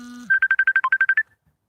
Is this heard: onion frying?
no